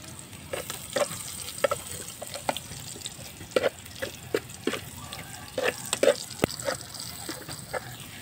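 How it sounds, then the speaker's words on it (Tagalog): Aromatics (ricado) being sautéed in a pan for a coconut-milk dish, a steady sizzle with irregular clinks and scrapes of a stirring utensil, plus watery splashing. "Gigisa niya yung mga ricado."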